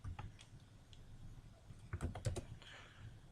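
A computer keyboard is typed on in scattered clusters of soft, close keystrokes, quiet overall with small gaps between bursts.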